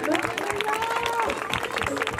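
A church congregation at a Christmas celebration in Chandigarh claps together, a dense, fairly loud patter of many hands under raised voices and a speaker talking.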